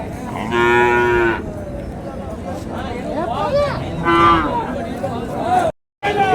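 Cattle and calves at a livestock market in Orappam, Krishnagiri district, moo loudly in two long calls amid crowd chatter and babble, with people talking throughout.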